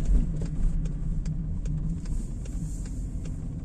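A car pulls away slowly from a stop during a driving lesson in Brno, its engine a steady close low rumble inside the cabin, with faint ticking over the hum.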